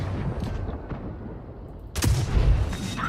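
In the video game Tanks Blitz, after a low rumbling background, a single heavy tank cannon blast booms sharply, followed by a lingering rumbling echo.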